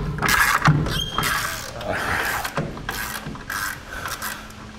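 Nuts being worked off studs on a trailer axle flange during a Dexter electric brake assembly installation, with irregular metallic rasping, ratcheting and rubbing in close, uneven bursts.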